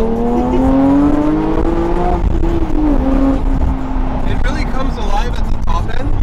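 A Porsche GT3 sports car with a stick shift accelerates hard, its engine note rising steadily then dropping at a gear change before climbing again, loud and close from inside the car, with road and wind noise.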